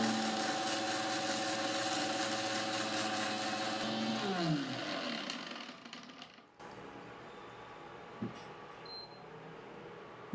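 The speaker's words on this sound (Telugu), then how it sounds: "మిక్సీ పెట్టేద్దాం." A mixer grinder blends hair oil ingredients, including coffee powder, in about 250 ml of oil, with a loud steady motor whir that winds down and stops partway through, leaving quiet room noise and a few small knocks.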